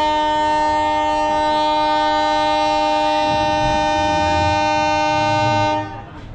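A loud, sustained horn blares for several seconds from a Rajshahi commuter train departing Rohanpur railway station for Ishwardi, then cuts off as the low rumble of the moving train continues.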